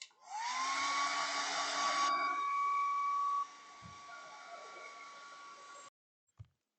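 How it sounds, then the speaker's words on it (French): A hair dryer blows on a wet white Nintendo console shell, a loud steady whine with a rising tone that drops to a lower setting partway, then cuts off, followed by a faint knock. "on fait sécher la grosse carcasse blanche au séchoir"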